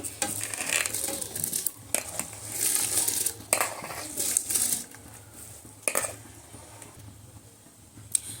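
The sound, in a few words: adding washed rice into boiling coconut milk in pot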